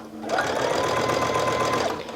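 A sewing machine runs a continuous straight stitch around a stretch knit headband, a steady close whirring hum that holds from start to finish with no talking.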